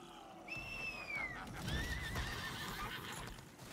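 A horse in the video game Lost Ark whinnies with a rising then falling cry, over a steady low rumble and faint hoof sounds, fairly close and clear.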